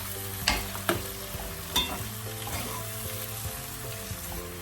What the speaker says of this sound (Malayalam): 4 തക്കാളി ചെറുതായിട്ട് അരിഞ്ഞിട്ട് ഇത് നമുക്ക് ഇതിനകത്തോട്ടേക്കിട്ട് നന്നായിട്ട് അതൊന്ന് വേവിച്ചെടുക്കാം